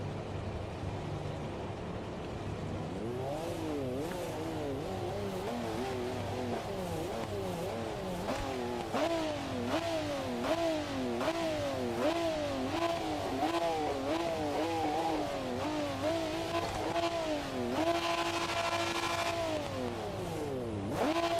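A car engine revs hard again and again, pitch sweeping up and dropping in repeated aggressive bursts, loud and close, with no talking.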